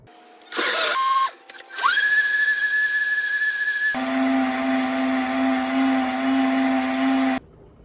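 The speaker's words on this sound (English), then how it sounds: "So we're gonna blend this for about 2 minutes." A blender whirs as it grinds spices for Mexican rice, starting with short bursts, then ramping up to a loud sustained high whine that shifts to a steadier lower drone before cutting off.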